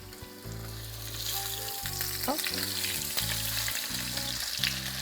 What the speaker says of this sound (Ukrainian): На добре розкалену сковорідочку пательню викладаємо перший биточок.